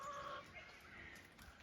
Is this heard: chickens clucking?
yes